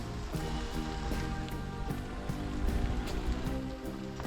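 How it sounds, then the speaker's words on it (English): Steady rain falls outdoors around a 1971 Datsun 510 during a carburetor install, a dense continuous patter with scattered drip ticks and a low rumbling undertone, fairly close and unbroken. "As you can see, it's raining."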